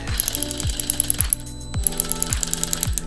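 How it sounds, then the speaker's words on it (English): A hand wrench ratchets on a bumper bolt of a supercharged Camaro SS, five or six quick runs of close clicking, each ending in a short thud, with brief pauses between strokes. "And handy dandy wrench."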